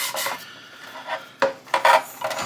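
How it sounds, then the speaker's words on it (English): A sanding stick rasps against the plastic hull of a 1/350 USS Missouri BB-63 model kit in short, close, scratchy strokes with brief pauses between them. "we're just going to start off with a regular sanding stick"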